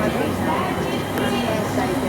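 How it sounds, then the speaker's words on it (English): A Class 350 train pulls into a long station platform, giving a steady rumbling roar with faint rail squeal, heard briefly and close by. "Our train is now coming, finally."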